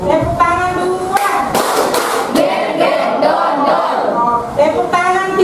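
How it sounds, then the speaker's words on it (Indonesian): Schoolchildren in an Indonesian classroom clap their hands together in a short patterned routine, with sharp claps mixed with young voices chanting and talking over them throughout. "Tepuk tangan 2."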